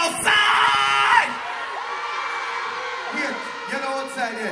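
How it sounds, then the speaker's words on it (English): A morning concert crowd at a Jamaican dancehall show screams and cheers loudly in a burst that fades into scattered shouts and whoops, with a voice calling over it. "If you're having fun this morning, let me hear you scream, we outside!"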